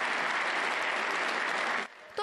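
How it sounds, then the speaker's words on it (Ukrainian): Members of Ukraine's parliament applaud a speech by the Polish Sejm speaker, a dense, loud round of clapping that stops abruptly near the end, followed by a brief voice. "Промову маршалка Сейму українські парламентарі час від часу переривають оплесками."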